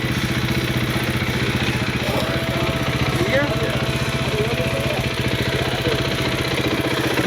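A motorcycle engine runs steadily close by with a low, even throb and slight clatter throughout, and people talk over it.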